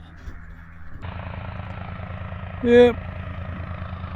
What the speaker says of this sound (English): the plane is standing by